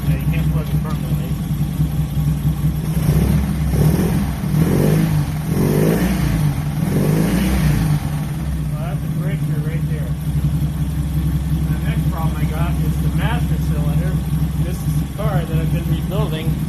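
A 1971 Honda 600 sedan engine runs steadily with a busy idle rhythm, blipping up in revs for a few seconds in the middle before settling back, with a person talking over it throughout.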